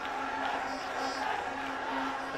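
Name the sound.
football stadium crowd cheering a player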